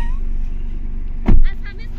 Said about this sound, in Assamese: এতিয়া আমি নদী পাৰ হৈ যাম পুৰা নদী দি গাড়ী নমাই দিছো